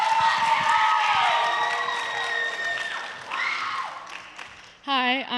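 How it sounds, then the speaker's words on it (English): A middle school student gathering at a church youth service gives a speaker applause mixed with cheering and whoops from the crowd, fading over a few seconds before a voice cuts in. "Will you guys give her a big round of applause?"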